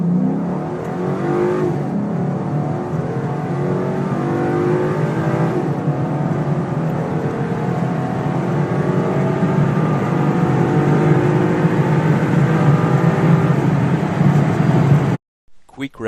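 A Ford 5.0 naturally aspirated V8 revs loudly and continuously, rising and climbing through the revs for about fifteen seconds before cutting off abruptly, heard without talk.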